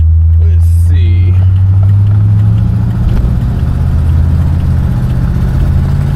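A 1967 Pontiac Bonneville with a 400 or 401 V8, driving along; a loud steady low engine rumble fills the cabin throughout, with a brief voice near the start.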